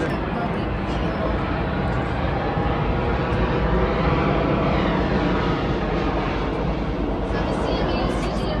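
A propeller or jet airplane passes overhead near Seattle's waterfront as the boat moves slowly, a loud, steady engine roar filling the whole stretch with a slight swell in the middle, with people talking faintly underneath.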